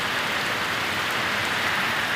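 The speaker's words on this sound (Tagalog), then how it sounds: "Kusog kaayong ulan diri dol" Heavy rain pours down during a storm in a dense, constant hiss, loud and unbroken, with no other sounds standing out.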